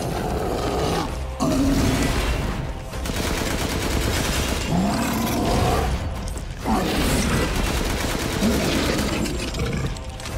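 Gunfire from the Resident Evil Village video game aimed at a boss's back comes in loud, dense rapid bursts over a churning mechanical background, with brief pauses between volleys and a voice faintly underneath.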